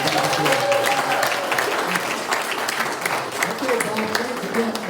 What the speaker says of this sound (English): How about that round of applause?